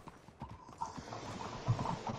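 Horse hooves clip-clop in the Red Dead video game, a quiet, uneven run of hoofbeats on the ground heard alone at moderate distance.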